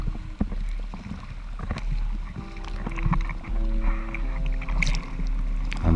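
Surfing at San Onofre: a surfboard is paddled through the ocean, with splashing arm strokes and sloshing water over wind noise on the microphone.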